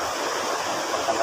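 Strong floodwater rushes past in a steady, loud, broadband roar, like a swollen river current pouring close by without pause.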